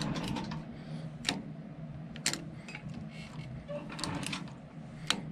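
A sewing machine stitches a back-and-forth bar tack on a thigh-high suede boot, producing sharp, close mechanical ticks and clacks in irregular short bursts, with a few louder needle strikes spaced about a second apart and no talking.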